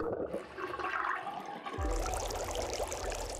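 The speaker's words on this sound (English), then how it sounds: "There seems to be some water inside after I drained the other sink" A sink drains in the Zero Time Dilemma video game, first with a soft gurgle and then a sudden rush of water swirling and flowing steadily down the drain, moderately quiet and close.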